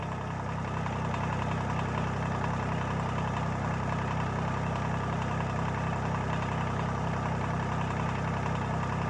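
A homemade fertilizer spreader drive running off a sub-compact tractor, giving a steady, even mechanical drone with a low engine hum underneath, constant and close with no pauses.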